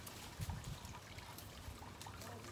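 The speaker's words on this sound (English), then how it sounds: "Don't get deceived by that noise, because that's not the motor, that's just the water." Water trickling and splashing in a garden water fountain, a faint steady burble with small gurgles, quiet and close, no speech.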